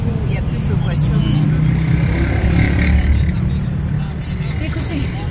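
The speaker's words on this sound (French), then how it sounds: "comme c'est une voie passante, il y a plus de voitures" Cars pass steadily along a busy roadside, making a continuous low rumble of traffic with no clear gaps, at close to moderate distance.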